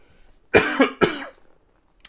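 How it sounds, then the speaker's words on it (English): Two sharp coughs in quick succession, close and fairly loud, followed by a quiet pause. "I'm coughing on tea."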